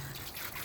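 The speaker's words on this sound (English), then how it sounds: "That slurry that you're pouring there is fantastic fertilizer." A short gush of microbe-rich slurry from a biodigester is poured out, giving a brief, fairly loud wet splashing with no voices.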